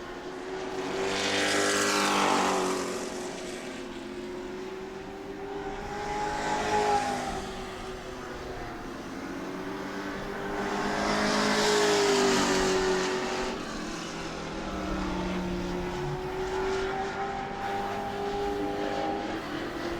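Pro trucks roar past during qualifying at New Smyrna, rising and falling in pitch as several sweep by over a steady drone of other motors.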